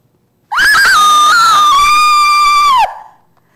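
An actress lets out a single loud, sustained scream close to the mic, lasting over two seconds before cutting off abruptly into silence.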